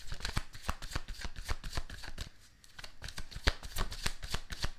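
A deck of Goddess Guidance oracle cards is riffled and shuffled in quick, steady bursts of papery flicks, close and fairly loud, pausing briefly midway before resuming.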